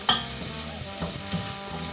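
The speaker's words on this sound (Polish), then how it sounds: "Cebulka nam się zaczyna smażyć." Onion sizzles softly while frying in a pan and is stirred, with a few brief scrapes and clicks from the stirring over a quiet, continuous crackle close by.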